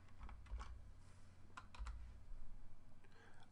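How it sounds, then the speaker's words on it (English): A computer keyboard gives a few soft, scattered keystroke clicks, quiet and close, in short irregular clusters. "If I type in your name up here"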